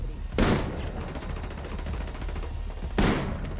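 A player's gun fires in Ghost Recon Wildlands: Ghost Wars, two loud bursts of gunfire about two and a half seconds apart, with a rattling low clatter of game noise between them.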